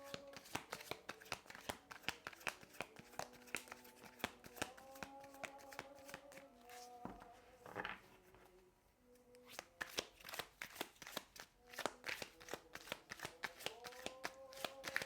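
Tarot cards being shuffled close up, a dense run of crisp riffling flutters and soft slaps, briefly pausing midway before resuming, quiet and intimate with no voice over it.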